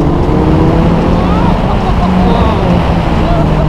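A Suzuki Hayabusa or Kawasaki ZX14 hyperbike accelerates hard, its loud, steady engine roar and rising tone close by, with voices talking over it.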